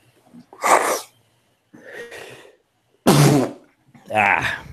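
Several sharp sneezes burst out in quick succession, close and loud, separated by short silent gaps.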